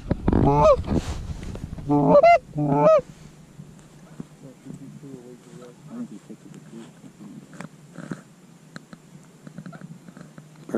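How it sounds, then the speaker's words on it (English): Several wild geese honk loudly over a corn field during a hunt, calls bunched into bursts in the first few seconds, then fading to quieter, scattered honks under low rumbling background noise. "There's more geese coming."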